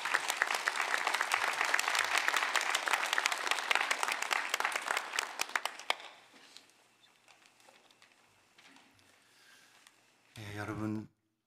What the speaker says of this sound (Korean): 우리 시간 목사님 나오실 때 우리 박수로 환영하겠습니다